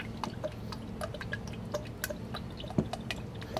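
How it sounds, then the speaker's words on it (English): Spicy Bloody Mary mix poured slowly into a glass at a cocktail bar, heard as faint, irregular drips and gurgles over a low background hum. "slow pour"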